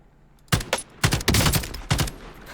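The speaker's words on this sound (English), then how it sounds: "I'm watching gunfire from the air." Gunfire in Call of Duty: Warzone quads matches, loud close bursts of automatic fire in several rapid volleys separated by brief pauses, with no talk over it.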